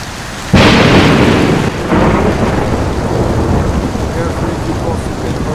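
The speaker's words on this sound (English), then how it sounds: "It's dark and it's raining." A sudden loud crack of thunder followed by a second rumble, over steady heavy rain that continues throughout, at night in the video game Skyrim.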